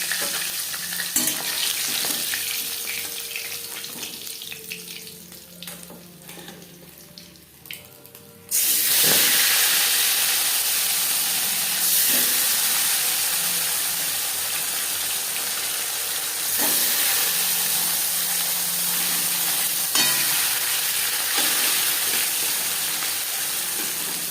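Sar puti fish fry in oil. The sizzle is muffled at first with a few knocks, then jumps to a loud, dense, steady crackle that carries on to the end, alone and close.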